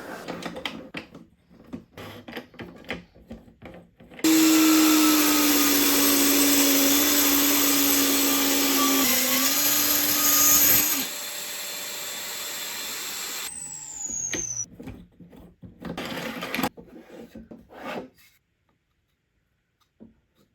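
A Dremel Blueprint portable saw station runs loud and steady, its motor whine holding constant as it cuts through clamped wood for about ten seconds, then winds down, followed by scattered clicks and handling noises.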